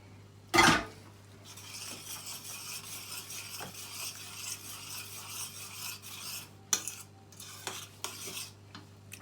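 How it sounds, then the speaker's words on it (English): A large tin of chopped tomatoes goes into a pan of browned meatballs with red wine. A sharp clang opens it, then soft scraping and wet stirring follow, with a few later clinks of utensil on pan. "You're going to add your large tin of chopped tomatoes."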